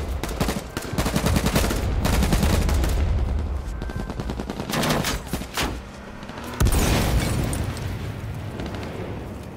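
Rapid gunfire bursts and explosive pops from an H1Z1: Battle Royale match, dense overlapping shots in clusters with a brief lull before another loud volley.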